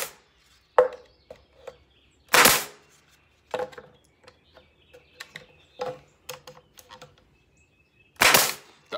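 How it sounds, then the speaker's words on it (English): Pneumatic brad nail gun firing nails into wood: several sharp, loud pops spaced irregularly, with quieter clicks and knocks in between. "You need to set and make sure that your brad gun's at the right PSI so that you don't shoot it through."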